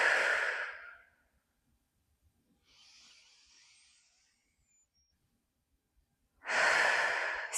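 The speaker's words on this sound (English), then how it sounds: "Take a couple of deep breaths." Two deep, loud breaths during yoga practice, one at the start and one near the end, separated by a long quiet stretch with a soft airy hiss in the middle.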